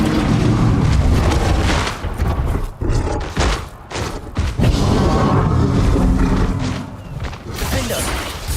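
A Bombarda spell explosion in Hogwarts Legacy, a loud booming blast with crashing, rumbling debris that fills the whole stretch, swelling and dipping with heavy impacts from start to finish.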